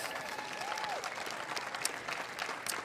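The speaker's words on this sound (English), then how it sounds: "I believe they should give a round of applause." Audience at a pickleball men's doubles gold medal match applauding steadily, a dense even patter of clapping from a moderate crowd with no talk.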